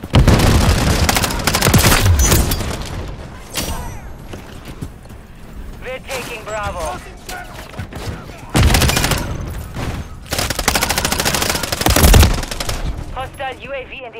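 Automatic gunfire in the multiplayer shooter Call of Duty: Modern Warfare III, loud bursts of rapid shots and booming impacts in several waves, with in-game voice callouts and other chatter over the battle.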